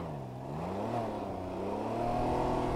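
Can-Am Ryker 900 Rally three-wheeler accelerating, a smooth rising engine drone that climbs steadily in pitch and loudness, heard from on board without speech.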